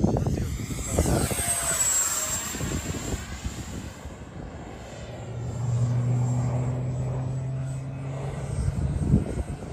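An FMS 64mm EDF F-16 Fighting Falcon RC jet rushes past with a rising then falling ducted-fan whoosh and whine, fading into the distance before a second approach builds again near the end.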